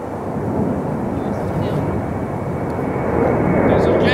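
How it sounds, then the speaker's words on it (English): A jet airplane roars overhead, a loud, continuous broadband rumble filling the whole stretch and swelling slightly toward the end, with faint voices speaking beneath it. "There's a jet going on."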